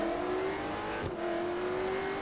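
A Koenigsegg CCGT race car in Forza Motorsport 3 revs with a steady, rising engine tone, joined by a brief whoosh midway.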